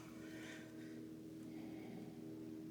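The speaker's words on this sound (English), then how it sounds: "If you guys hear any airplanes, I do apologize." Steady low engine drone of airplanes flying overhead fills the background, a continuous broad rumble that holds evenly throughout, with no talk.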